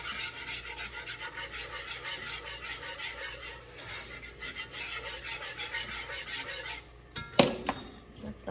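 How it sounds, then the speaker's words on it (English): A whisk scrapes rhythmically through flour and pan drippings as gravy is made for deer cubed steak, a steady close rasping pattern that breaks into a few louder clanks near the end. "All right, so whisk this in."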